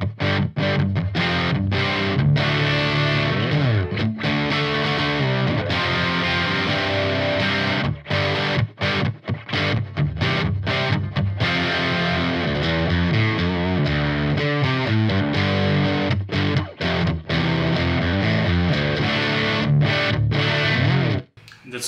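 Heavily distorted electric guitar through the red high-gain channel of a Marshall JVM410 amp head, playing continuous loud riffs with brief choppy stops and a sustained final chord that cuts off, no talking.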